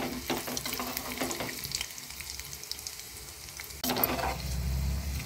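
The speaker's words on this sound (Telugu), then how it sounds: "వెల్లుల్లి వేగిపోయాక తిరుమతి దినుసులు వేసుకోవాలి." Crushed garlic and seasoning spices frying in oil for a raw mango chutney, a quiet close crackle with a few stirring scrapes, then a louder burst of sizzling near the end, no talk.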